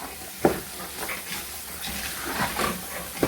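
Green beans and carrot fry in a pan, a steady sizzling hiss with a couple of sharper stirring knocks against the pan.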